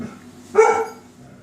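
A single short dog bark from a large, shy dog, one sharp burst rising out of a quiet room and fading within about half a second, heard alone with no talking.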